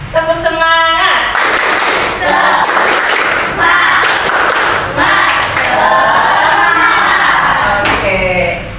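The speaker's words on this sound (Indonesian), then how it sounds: "Tepuk semangat." A school class performs a rhythmic spirit clap together, loud patterned bursts of clapping mixed with children's chanting voices, following a shouted teacher's cue at the start.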